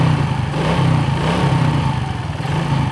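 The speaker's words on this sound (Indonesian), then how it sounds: "Nah, motor sudah bisa hidup." Motorcycle engine running steadily after a lost-compression repair using oil, a continuous close mid-pitched idle throb without voices.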